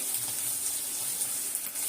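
Water pouring and splashing steadily from a rinsed mixie grinder jar into a pot of spinach in a kitchen, a continuous close hiss with no talk.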